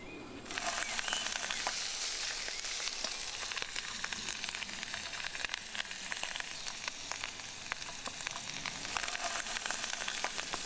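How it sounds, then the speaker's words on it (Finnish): False morel mushrooms fry in oil in a pan, a steady broadband sizzle that holds for about ten seconds after a short quiet start, with small crackles and pops and no talking. "Öljy pannuun. Paistetaan ne korvasienet, mitkä sä oot leikannut."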